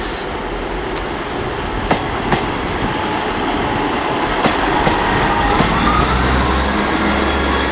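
Trains moving through Leeds station, one a class 158 unit, with a steady rolling rumble, wheel clicks and occasional metallic clunks, building toward the end as a high squeal rises over the noise.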